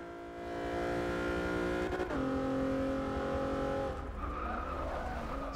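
A 1999 Mitsubishi EVO and rival cars race in Forza 6, engines droning loudly and steadily with rising and falling pitch through gear changes, tires squealing briefly, the pack close and continuous.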